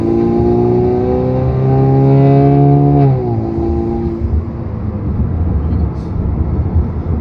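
A 2017 Camaro with a turbocharged four-cylinder engine pulls hard on a street, its engine note climbing steadily for about three seconds, then dropping into a lower, rougher drone as it shifts and keeps driving.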